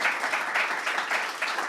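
Steady applause from a lecture audience at a talk on sound restoration, a dense, even wash of clapping throughout with no voices.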